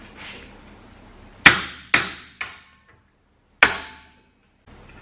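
A hammer smacks a car's rear brake rotor to loosen it, four sharp metallic strikes with ringing decay, the first three in quick succession and the last after a pause, close and alone.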